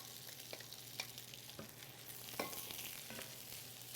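Diced celery and two small onions sizzle steadily in a hot pan with a low constant hiss, punctuated by a few sharp stirring clicks.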